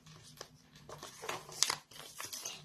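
A plastic packet of collectible Stitch items is torn open by hand, a few sharp crinkling rips and rustles close up over quiet room tone.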